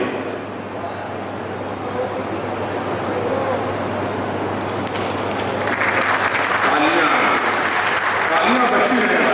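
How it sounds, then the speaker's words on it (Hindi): An audience claps continuously at an oath ceremony for newly elected district officials and executive members. The applause is a sustained, dense patter that swells slightly toward the end, with voices talking over it. "तालियां बजती रहे भाई।"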